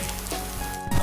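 Burnt garlic rice tossed in a hot wok sizzles briefly, a short hissing crackle with a scraping toss near the end, close and moderately loud with no talk.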